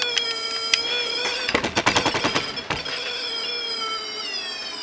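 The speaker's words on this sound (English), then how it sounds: "you can hear the tone goes lower, and then the frequency of the tone goes lower" Electronic tone from an HC-SR04 ultrasonic sensor on a TI LaunchPad MSP430 board, a steady sustained beep whose pitch shifts and wavers as a hand moves nearer, with a brief burst of rapid clicking stutter in the middle.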